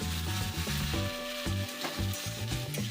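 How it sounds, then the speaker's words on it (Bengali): Potatoes frying with spices in hot oil, a steady close sizzle with stirring scrapes and a faint tonal hum underneath, no voices. "এইভাবে আস্তে আস্তে আলুটা মশলার সাথে কষিয়ে নিতে হবে"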